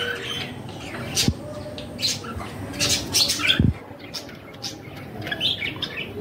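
Scattered sharp chirps and squawks from budgerigars, a breeding pair at a clay pot nest, with brief wing flutters and a couple of bumps, moderately close and irregular.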